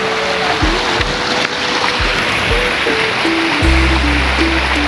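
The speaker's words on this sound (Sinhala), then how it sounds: "වතුර නම් අදිනවා හොඳට" Strong current of water rushing along a canal, a steady broadband wash throughout, with low thumps and a faint wavering tone over the top, no voices.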